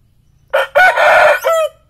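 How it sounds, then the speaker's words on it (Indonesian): A Bangkok rooster, freshly bathed and set out to dry, crows once loud and close, a broken multi-part call lasting about a second against a quiet background. "ayam jago saya teman-teman, habis saya mandikan terus saya jemur untuk kesehatan tubuhnya"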